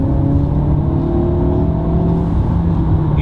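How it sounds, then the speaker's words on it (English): A 2018 DS7 Crossback in sport mode with a gear dropped, its engine droning loud and steady up close, the tone climbing slightly as it revs over continuous road rumble. "And the sound of that engine. It sounds really good."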